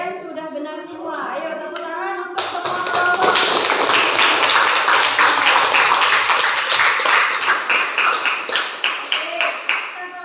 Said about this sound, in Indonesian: Ayo tepuk tangan untuk semua kelompok